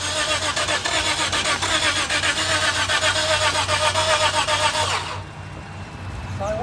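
A Lexus engine cranks repeatedly for about five seconds, a fast pulsing starter whir that stops abruptly and leaves quiet afterward.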